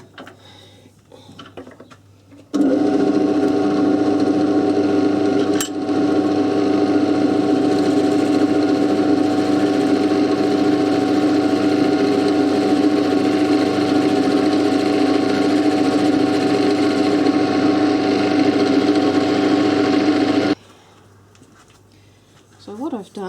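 A drill bores into a small scrapwood tenon held in a lathe chuck, giving a steady, loud mechanical whir that runs unbroken for about eighteen seconds before stopping, with a brief click partway through.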